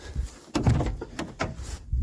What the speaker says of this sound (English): just on the passenger side, door opens.